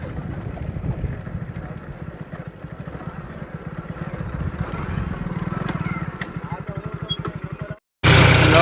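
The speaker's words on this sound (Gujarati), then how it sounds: "મિત્રો આપણે હવે ટ્રેક્ટર ચાલુ કરી દીધું છે" Tractor engine idling and chugging steadily on a farm field, loud and close with a regular low pulsing beat, ending with a sudden burst of wind or handling noise.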